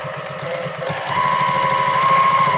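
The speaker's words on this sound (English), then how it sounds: "sewing them into little square pockets" A sewing machine stitching fabric into small square pockets for hair barrettes runs with a steady rapid hum and rhythmic low chatter, growing slightly louder and higher partway through, close and continuous with no talk.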